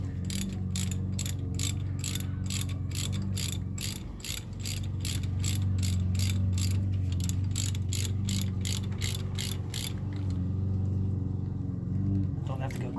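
A hand ratchet clicks in fast, even bursts while tightening bolts on a front-wheel-drive sport compact race car, close and crisp over a low hum, pausing briefly, with someone talking.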